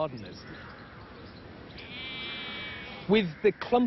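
Sheep bleat in a grassy park meadow at Blenheim Park, England: a few short, fairly close calls come near the end, after a quiet stretch of faint outdoor ambience and a buzzing insect.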